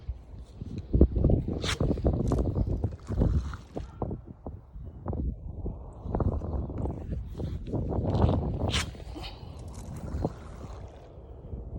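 Wind blows across a backyard pond in early spring, rumbling in uneven gusts against the microphone, fairly quiet overall with brief rustling and knocking sounds mixed in.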